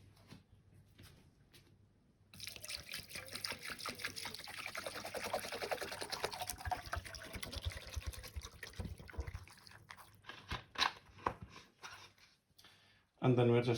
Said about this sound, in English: And then we're going to fill the rest with water.